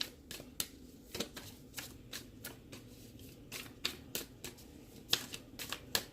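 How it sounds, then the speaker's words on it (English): Tarot cards are shuffled in quick repeated riffles and snaps, crisp and close, with short pauses between bursts and no voices. "thank you so much again for being patient while I'm shuffling your cards"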